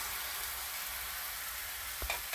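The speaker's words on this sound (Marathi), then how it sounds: "आणि बॅटर टाकून घ्यायचं" Dosa batter is poured onto a hot buttered pan and sizzles in a steady, fairly faint hiss. A soft clink or scrape of a utensil comes near the end.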